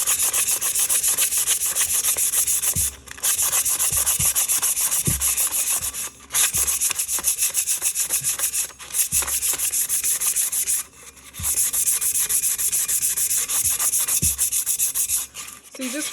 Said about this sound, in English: So what I'm going to do now is take my sandpaper, which happens to be 220 grit.